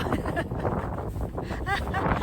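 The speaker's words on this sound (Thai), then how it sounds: "ลมหนาวของแท้ ลมพัดมาก" Cold wind blows hard across a snowy landscape, buffeting the microphone with a constant low roar and rumble, while a person speaks over it.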